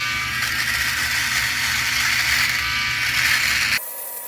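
A Philips OneBlade electric razor shaves a dry coarse beard with no cream, a loud close steady buzz with rasping cutting texture that stops abruptly near the end.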